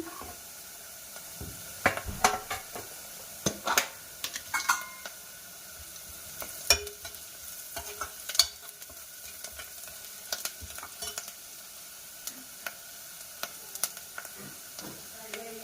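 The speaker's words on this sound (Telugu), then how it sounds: "ఆనియన్ ఫ్రై అయ్యాయి కదా, ఇప్పుడు కొంచెం పసుపు వేస్తున్నా." Onions fry in a pan as turmeric is stirred in. A soft background sizzle runs under sharp, irregular spoon scrapes and clacks against the pan, and no one speaks.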